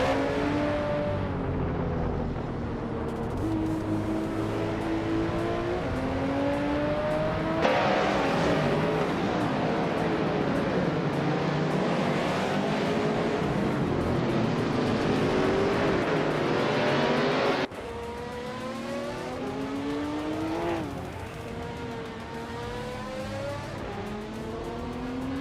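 Race cars in a racing video game, including a 2004 Ford Doran JE4 and a 2004 Cadillac CTS-V in the GTS class. Engines whine and rise through the gears as they pass, loud and continuous, with no talking.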